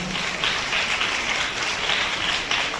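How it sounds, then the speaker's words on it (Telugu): An audience clapping at a national-level classical and folk dance competition prize announcement, a continuous even patter of applause at moderate loudness with no voices over it. "చప్పట్లు కొంచెం గట్టిగా కొట్టండమ్మా"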